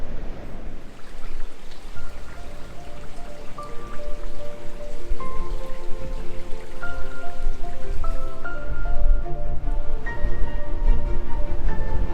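Steady rain falls outdoors over a flat bay in South Wales, a continuous broadband patter with scattered drips, heard alone with some faint tonal music-like lines running through it.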